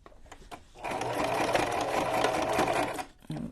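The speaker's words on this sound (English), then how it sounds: "I'm locking my stitch and everything." A close sewing machine stitches a fabric journal cover in one quick run of about two seconds. The rapid, even needle chatter is framed by brief quiet handling sounds before and after.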